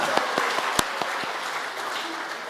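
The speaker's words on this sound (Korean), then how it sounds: "와, 박수." A church congregation breaks into applause to welcome a young man back from the army, dense and lively clapping with several loud, close individual claps early on, tapering slightly toward the end.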